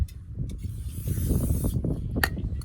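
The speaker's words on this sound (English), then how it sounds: "So we're just gonna spray that off a little bit and get off all the oil." Cleaner sprays in a steady hiss onto the brake rotor of a Ford F-150, a close, continuous spray and rubbing sound that lasts a couple of seconds, with a short sharp burst near the end.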